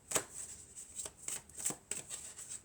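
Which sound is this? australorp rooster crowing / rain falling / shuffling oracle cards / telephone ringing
shuffling oracle cards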